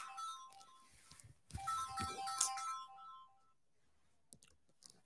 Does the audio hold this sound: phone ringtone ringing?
yes